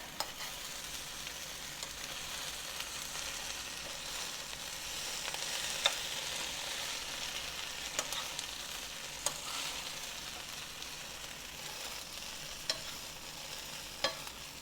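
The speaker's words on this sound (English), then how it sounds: "put that in my little skillet on the back burner and let that start frying" Steady, quiet sizzling of okra frying in a skillet, with occasional scraping and tapping as it is stirred.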